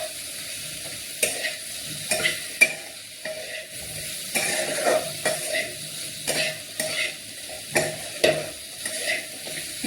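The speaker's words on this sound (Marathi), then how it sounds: "आपण हा जो बटाटा कापलेला आहे तो यात टाकायचा आहे। आणि हळूहळू परतून द्यायचं" Cut potatoes stir-fry with spices in a pan over a low flame, a soft continuous sizzle broken by repeated sharp clacks and scrapes of a spatula stirring against the metal.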